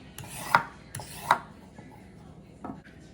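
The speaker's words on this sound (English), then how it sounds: "Next, peel the carrot skin." Carrot skin being peeled with a peeler, three short rasping scrapes close by, the first two in quick succession and the last softer after a pause.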